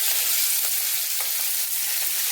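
Onion hits hot oil tempered with mustard seeds, asafoetida and turmeric, producing a loud, dense, continuous sizzle with faint crackles throughout and no voices.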